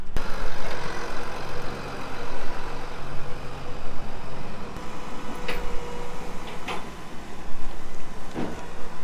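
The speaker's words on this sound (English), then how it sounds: "Here we have another tractor rolling in." A tractor rumbles in at a French livestock show, a low steady engine drone with a few clanks and knocks over it, fairly close and continuous throughout.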